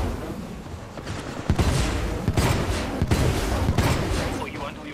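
Gunfire in Titanfall 2 rattles in dense, loud volleys, with sharp bursts and heavy thumps piling up continuously at close range across the whole stretch.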